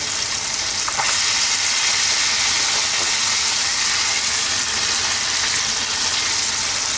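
Chicken pieces, three or four at a time, deep-frying in hot oil make a loud, dense, continuous sizzle with a steady crackle that does not let up, with no voices over it.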